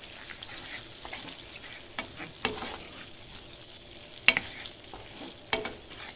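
Vegetables seasoned with salt and pepper sauté in a pan with a soft, constant sizzle, punctuated by several sharp scrapes and clacks of a utensil stirring, fairly close and moderately quiet, with no voices.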